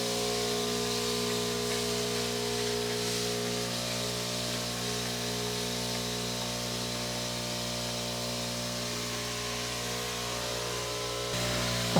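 A powered sprayer on a small farm sends a steady, loud hissing mist into corners, accompanied by a constant motor drone with a humming tone, running unbroken until a brief change near the end.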